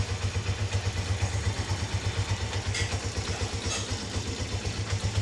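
A Mojo 110 motorcycle engine idling while it warms up after an oil change, a steady, rhythmic low chug that pulses evenly throughout at close range, with no voices.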